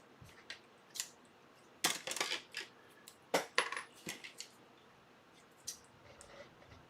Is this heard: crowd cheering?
no